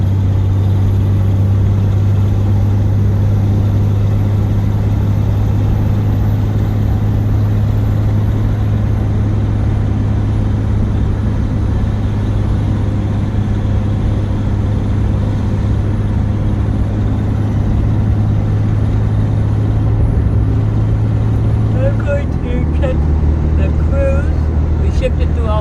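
A 2003 Dodge Ram 2500 pickup with its Dodge engine cruising along, a loud, steady low drone throughout that shifts slightly near the end.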